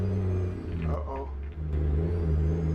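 Truck engine on light throttle in American Truck Simulator, a low steady drone with a brief dip in the middle before settling back to an even hum.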